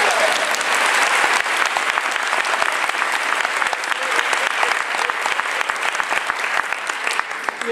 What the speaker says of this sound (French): Encore applaudissons